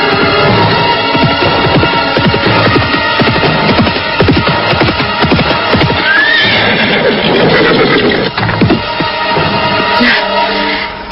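A horse neighs loudly over a dense, full backdrop of hooves and drama score, the whinny rising and trailing off mid-clip in an Indonesian period drama scene.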